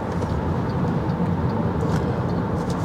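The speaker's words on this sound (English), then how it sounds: "The noise in the car at 130 is fine." Steady broadband road and wind roar inside an MG Marvel R electric car cruising at highway speed, a constant low rumble with no talking.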